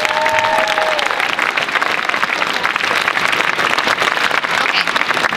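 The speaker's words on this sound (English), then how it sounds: "Please give him a lovely round of applause." An anime convention masquerade crowd gives loud, dense, continuous applause, a steady close wash of many hands clapping without pause, with a faint whistle near the start.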